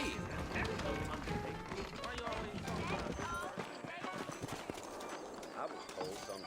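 Horses' hooves clip-clopping in the Western video game Red Dead Redemption, a continuous busy patter of hoofbeats mixed with other game sounds and music throughout.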